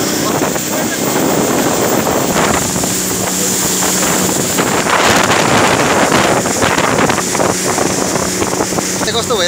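A jet boat speeds along the Saptakoshi river, its steady engine roar mixed with rushing water and gusting wind buffeting the microphone, loud and continuous throughout with a faint voice underneath.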